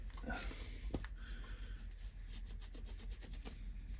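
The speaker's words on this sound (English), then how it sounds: "very carefully gonna rub some of this stuff across the back of the pads" A substance is rubbed carefully across the back of Magura HS33 rim brake pads, giving a soft, close, steady scrubbing and rubbing with a few faint taps and no talking.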